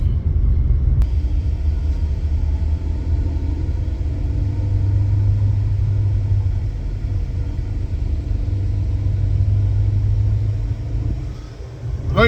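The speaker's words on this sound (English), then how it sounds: "Ooh, that's a lot of traffic." Heavy road traffic rumbles in a steady, low, loud wash of passing vehicles heard from close by, swelling and easing slightly without a break and with no one speaking.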